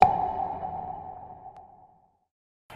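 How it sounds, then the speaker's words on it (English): An oil droplet hit sample transposed eight semitones down gives a single deep tonal plop that rings out and fades over about two seconds, alone and close. "we have this little face oil droplet hit out of the long hits folder"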